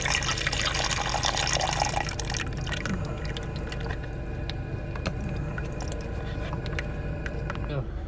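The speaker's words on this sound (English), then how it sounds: "plenty of water coming out that heat exchanger" Thawed condensate water drains from a boiler heat exchanger into a small tub below, a steady trickle with dripping splashes. Someone talks over it.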